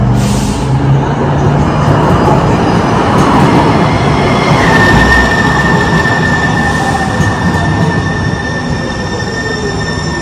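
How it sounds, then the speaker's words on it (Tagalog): Steady, loud rumble of a train ride to Seattle airport, with wheels squealing in a long high whine partway through and continuous rail noise throughout; no talk. "so nandito na tayo sa sakay ng train"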